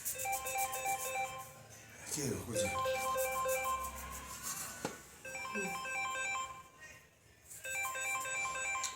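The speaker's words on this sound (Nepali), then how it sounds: "यहाँ फोन आयो त्यही भएर" A phone ringtone plays in bursts of repeated electronic melody at a home kitchen during momo making, fairly loud, with pauses between rings and some background voices.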